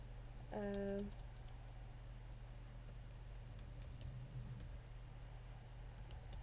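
Light, irregular keyboard typing, soft clicks scattered throughout, preceded by a short electronic beep over a steady low hum.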